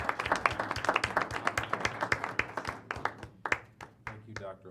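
A school board meeting audience gives a modest round of applause for a teacher recommended for tenure, distinct close claps that thin out and fade toward the end.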